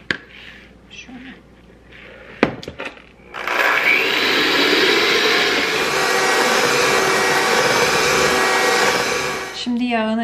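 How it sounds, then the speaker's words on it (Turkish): Eggs and brown sugar beaten together for banana bread, an electric mixer whirring loudly and steadily for about six seconds after a few brief knocks and some quiet talk. "Şimdi bunu çırpacağım ben."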